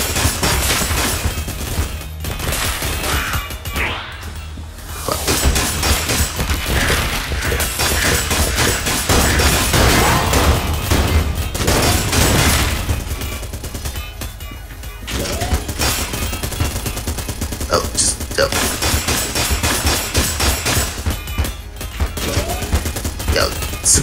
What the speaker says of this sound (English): Super Meat Boy gun is killing shit.